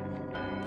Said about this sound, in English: Oh, I'm ringing the bell.